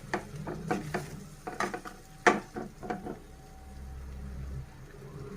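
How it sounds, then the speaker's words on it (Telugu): Tomato paste cooks in oil in a pan for a meal maker kurma, with quiet bubbling and several scrapes and clinks from a utensil, then a faint low hum. "టమాటా పేస్ట్ కూడా యాడ్ చేసుకొని ఈ టమాటా పచ్చివాసన పోయేంత వరకు కూడా దాన్ని కూడా బాగా నూనెలో మగ్గించుకుందాం"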